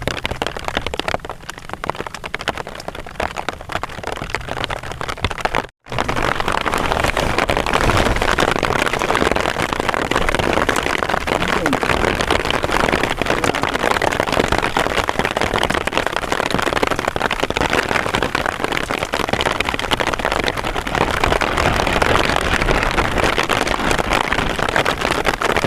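Heavy rain pours steadily on a forest during outdoor cooking, a loud, unbroken roar of drops on surfaces, with one sudden brief cut early on.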